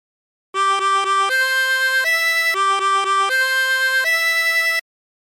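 A 24-hole tremolo harmonica plays La Cucaracha with a bright, reedy tone, repeated short notes followed by longer held ones, played alone and up close.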